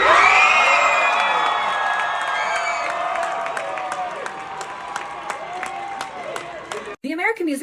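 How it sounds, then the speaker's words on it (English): Award-show crowd at the American Music Awards cheers, whoops and claps loudly after a winner is named, with shrill screams over the roar, fading somewhat before an abrupt cut near the end. "You can audibly hear the crowds cheering"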